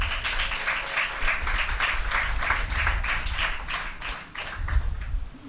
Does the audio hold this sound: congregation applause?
yes